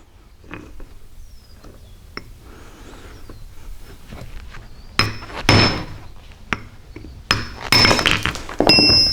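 Stone is being split with wedges, struck the way firewood is split, outdoors. Faint knocks and taps build into louder sharp cracks and clinks of metal and breaking rock in the second half, close by, with no talking.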